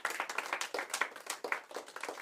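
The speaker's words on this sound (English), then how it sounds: "Hold for applause" Handclapping from a small group, close and distinct, with individual claps audible in an uneven rhythm for about two seconds.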